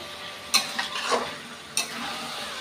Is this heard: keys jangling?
no